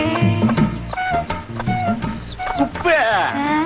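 Chickens clucking inside a new basket, a near run of loud, repeated clucks and squawks that continue without a break, mixed with voices.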